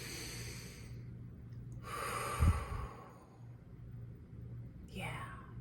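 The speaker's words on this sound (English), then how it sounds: "Let's take a breath." A deep breath drawn in audibly, with a sharp snort-like inhale in the middle and softer breathing around it, close to the microphone amid quiet talk.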